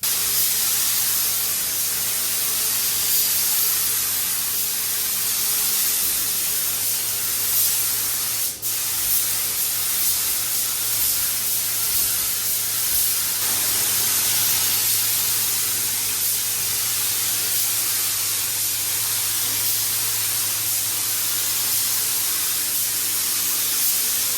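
A spray gun lays the final solvent base coat on a Vauxhall Nova, giving a steady, loud, unbroken hiss for the whole stretch, with one brief tap partway through and no talking.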